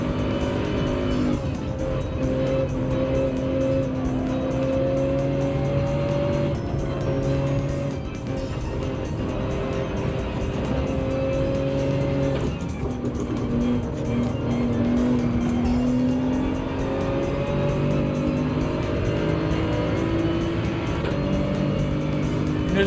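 Race car engines in Gran Turismo 7 during a daily race, a continuous loud droning roar with shifting pitch as the cars accelerate and pass, with no talk over it.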